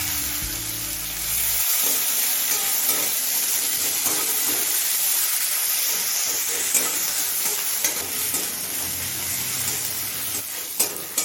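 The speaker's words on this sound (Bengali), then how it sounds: "এখন দিচ্ছি পাতলা পাতলা করে কুচুনো একটা মাঝারি সাইজের পেঁয়াজ" Thinly sliced medium onion dropped into hot oil with black cumin, a sudden loud sizzle that settles into a continuous close frying hiss with occasional stirring clicks, no speech.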